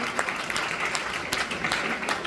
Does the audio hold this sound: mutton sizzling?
no